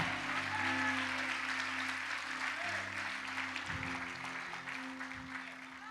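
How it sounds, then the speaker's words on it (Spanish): Congregation applause at a Spanish-language church service, a steady wash of clapping over sustained organ or keyboard chords, moderately loud and continuous throughout. "Dale un fuerte aplauso al Señor."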